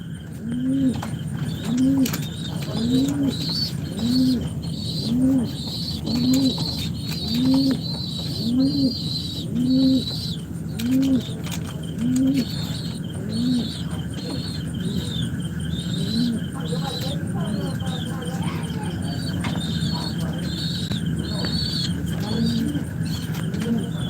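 Native and Giribaj high-flying pigeons cooing, a steady run of rhythmic low coos repeating about every second, with chirps and other birds in the background.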